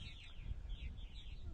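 Purple martins on eastern Long Island, New York, giving several faint, high chirping calls in the evening over a low background rumble.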